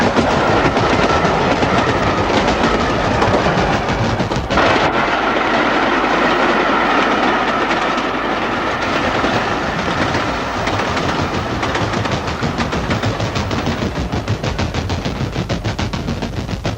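A train rumbles past on a railway beside a London council estate off Battersea Park Road, loud and close, with continuous clickety-clack of wheels over rail joints throughout.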